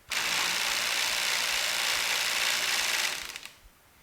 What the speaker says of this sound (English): Does your Genie screw drive garage door opener make this noise?